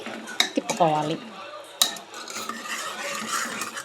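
Tamarind dal simmering in a pot on high heat, stirred with a metal spoon that clinks and scrapes against the sides in a quick burst, then quieter stirring under a low bubbling hiss.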